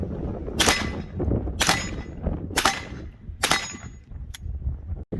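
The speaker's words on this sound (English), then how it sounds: "This is Ronnie's gun with the Q Full Nelson suppressor on it with the supersonic 125 grain ammo." A 300 Blackout rifle fitted with a Q Full Nelson suppressor fires supersonic 125 grain ammunition outdoors at a range, four sharp, loud cracks spaced about a second apart, with a smaller metallic ping after them.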